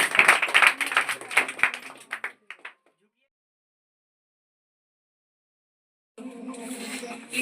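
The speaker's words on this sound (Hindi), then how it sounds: "इनके लिए फिर जोरदार तालियों से किया जाए" Brief burst of clapping for a student who placed first at a school prize event, a couple of seconds of dense hand claps tapering to scattered claps, then silence before a voice resumes.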